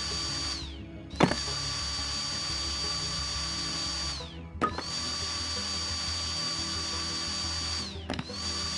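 A screwdriver drives big screws out in the VR game Battlecrafter. It whirs steadily in three runs of about three seconds each, winding down with a brief clunk between runs, and no talk.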